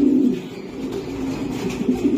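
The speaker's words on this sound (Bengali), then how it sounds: "সুপার কোয়ালিটির কবুতর" A racer pigeon coos in a low, soft, repeated purr, near and steady across the moment, with no voices over it.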